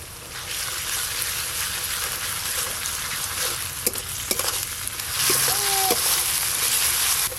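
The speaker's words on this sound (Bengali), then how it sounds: "আদা রসুন আর পেঁয়াজ একসঙ্গে তো ভালো করে ভাজা ভাজা হয়ে গেল" Chopped onion fries with ginger and garlic paste in a pan, a loud continuous sizzle with stirring clatter and a few sharp utensil knocks near the end.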